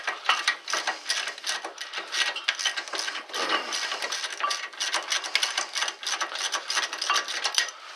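A hand ratchet clicks rapidly and steadily, close and fairly quiet, as it loosens the large bolts of a front brake caliper bracket on a Ford Taurus, with quick pawl ticks running in continuous bursts and no talking.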